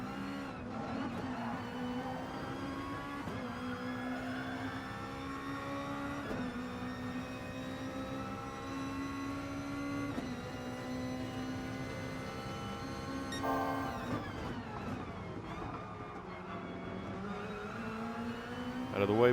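A race car engine in a racing video game screams through a flying lap, its loud, continuous note climbing and dropping with repeated gear changes, sustained throughout.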